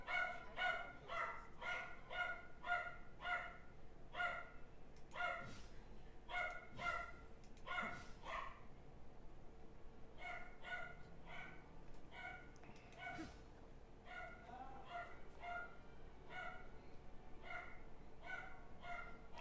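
A dog barks in repeated quick bursts, with yips and whimpers mixed in, fairly close over a steady low background hum.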